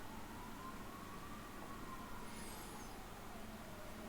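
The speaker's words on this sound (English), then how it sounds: "A lot of ambulances here" Ambulance sirens wail in the distance, a faint rising and falling tone drifting over steady background noise with no talk.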